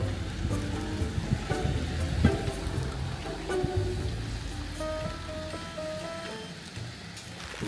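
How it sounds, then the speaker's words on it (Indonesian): Rain falls steadily on a hard surface, a soft continuous patter with scattered droplet hits, moderately close and fairly quiet throughout, with no talk over it. "Hujan kan?"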